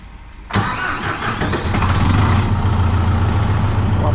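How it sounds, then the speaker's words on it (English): A farm tractor's engine cranks and catches after a short quiet stretch, then settles into a loud, steady low rumble close by in a snowy barnyard. "Unplug the tractor. Let's see if she fires up."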